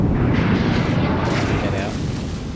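A Yamato battleship firing in World of Warships gives a deep, heavy booming roar that fills the moment loudly and then slowly fades, with some voice faintly mixed in.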